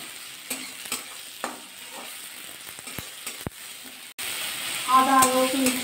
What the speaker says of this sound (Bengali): এবার রসুন দিয়ে পেঁয়াজ দিয়ে টমেটো দিয়ে হালকা একটু কষিয়ে নেব।